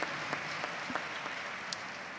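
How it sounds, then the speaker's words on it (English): An audience at a Muslim community event applauds three presenters, heard as soft, distant clapping with a few sharper claps standing out over a steady background hiss. "Another round of applause for them."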